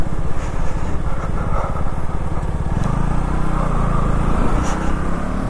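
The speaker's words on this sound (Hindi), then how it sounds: "बहुत रिफाइंड किया है इसका इंजन" KTM Duke 200 motorcycle engine running steadily while riding, a continuous close, loud hum with a low throbbing pulse that shifts in tone partway through, mixed with wind noise and no voices.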